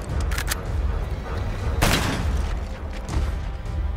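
Rapid multiplayer gunfire from the Call of Duty Black Ops video game, with sharp repeated shots and a louder burst midway over a steady layer of game noise.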